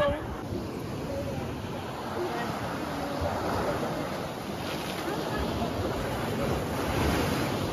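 North Sea waves rolling in at high tide along the coast, a steady close wash of surf with wind noise buffeting the microphone throughout, loud and continuous.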